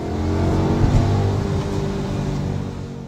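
A 4.2-liter V8 in an Audi S5, rated at 345 horsepower, revs in a steady, loud rumble with a low throaty note that swells slightly near the start and holds for about three seconds, with no talking.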